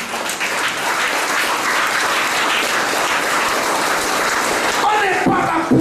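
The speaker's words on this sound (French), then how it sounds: "Acclamez le Dieu vivant." A church congregation applauds God with sustained, dense clapping filling the room, loud and steady, before a voice breaks in near the end.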